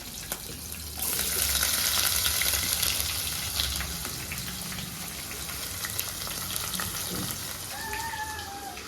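Onions frying in oil with curry leaves, green chillies, mint, coriander and tomato, a loud continuous sizzle that swells after the first second, with occasional stirring clicks and a faint voice near the end.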